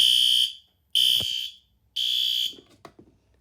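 Spectra Advance fire alarm sounding three loud, piercing electronic tone bursts of about half a second each, separated by short gaps, close and alone.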